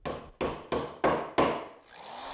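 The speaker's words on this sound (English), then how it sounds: "Now we can install the T-nut, and we'll start out by tapping that in." A T-nut is tapped into a wooden table leg for a fold-down outfeed table: five sharp, evenly spaced hammer knocks ring close and loud, each decaying quickly, followed by a quieter pause.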